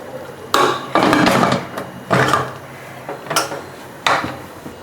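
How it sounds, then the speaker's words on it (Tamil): Metal clanks and scrapes of a lid handled and set onto a pressure cooker holding goat intestine gravy, several sharp close knocks spaced irregularly, no talk. "இந்த ஸ்டேஜில் மூடி போட்டுடலாங்க"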